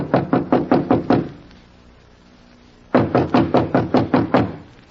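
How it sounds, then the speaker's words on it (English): Two quick series of sharp knocks on a door, about six firm raps each, separated by a pause of near silence, close and loud in a quiet room. "Standing at the door, he hesitated. Then, squaring his shoulders, he knocked."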